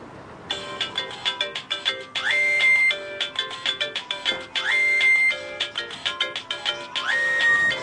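A phone ringtone plays a repeating electronic melody in a household scene, with bursts of ringing that pause briefly and start again, loud and close with no talk over it.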